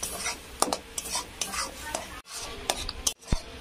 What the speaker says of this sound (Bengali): তালের নোদটা একটু নেড়ে ছেড়ে আমি এটা ভালো করে একটু শুকনো করে নেব।